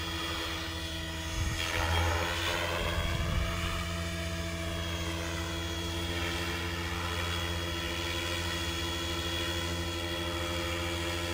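A Trex 550 DFC radio-controlled helicopter hovers and flies nearby, its steady high-pitched rotor and motor whine holding throughout with a slight surge early on, outdoors at Yuvacık.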